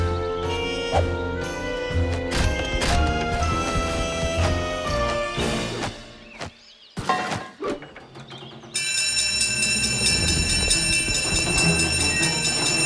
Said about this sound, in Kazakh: Бұл әткеншек емес, темір жол тоспасы. Ол жабылады себебі пойыз келе жатыр.